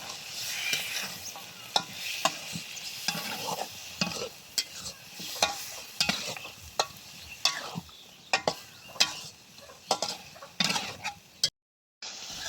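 Meat frying in a wok, stirred repeatedly: uneven clatters and scrapes of the spoon over a continuous soft sizzle, ending in a short gap of silence.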